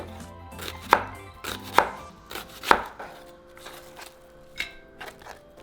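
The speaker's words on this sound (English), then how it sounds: "so for our onion, we're just going to cut it in half" A knife cuts an onion into half moons on a cutting board for potato and chorizo tacos, with a few sharp, distinct chops spaced a second or so apart, close and clear, then lighter taps.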